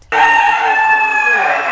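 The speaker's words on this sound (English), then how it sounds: "For these young chicks, the noise they generate cannot determine their health condition." Young chicks in a storm-damaged poultry house, one loud sustained high peeping call close to the microphone, alone with no talking.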